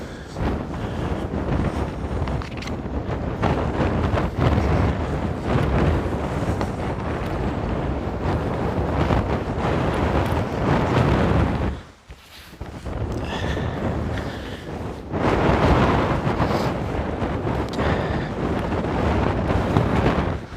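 Strong wind roars across the top of Fagradalsfjall mountain in Iceland, battering the microphone in loud, continuous gusts. It drops out briefly at one point and then surges back, with no voices.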